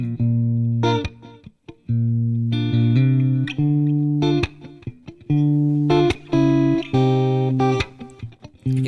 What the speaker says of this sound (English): listen to what happens as I reduce the resolution in this bit crusher.